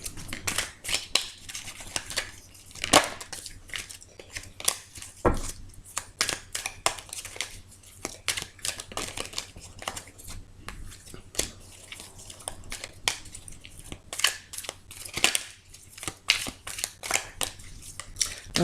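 Tarot cards being cut and shuffled by hand, a steady run of close, crisp card snaps and papery riffles with short pauses between bursts, no talking.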